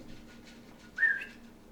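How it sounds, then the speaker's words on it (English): A person hidden behind a barn whistles to get attention, a single short, faint whistle heard once against quiet outdoor background. "you hear a whistle"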